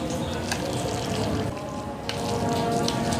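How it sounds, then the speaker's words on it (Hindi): Water poured into kadhi batter made with gram flour for pakora curry, a soft continuous splashing and trickling into the mixture, fairly close and steady with a slight change in texture midway. "इसलिए हम थोड़ा सा पानी और ऐड करेंगे।"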